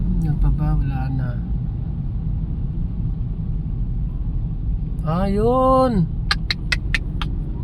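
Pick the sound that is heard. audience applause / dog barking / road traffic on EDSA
road traffic on EDSA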